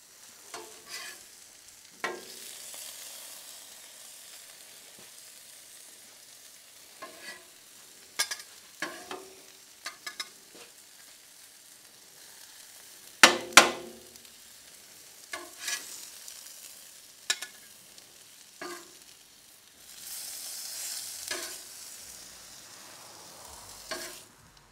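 Potatoes and sausage frying on a griddle at a track, a quiet, steady sizzle broken by scattered scraping and spatula clacks, with one louder pair of knocks midway and a stronger hiss near the end.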